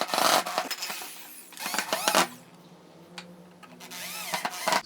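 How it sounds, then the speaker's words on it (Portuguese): Power drill driving screws into a wooden tray, with two loud whirring bursts near the start, then a quieter gap with small handling clicks, and another drill burst at the end. "Vamos parafusar isso aqui agora."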